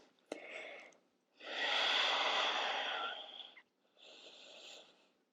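Slow breaths taken while holding a yoga pose on a mat: a short sharp intake, then a long soft exhale and a shorter final breath, close and quiet in a still room.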